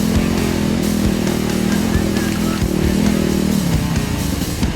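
KTM dirt bike engine revving at the foot of a forest hill climb in Ourimbah State Forest, a loud buzzing two-wheeler drone that rises and dips, with a few sharp knocks along the way.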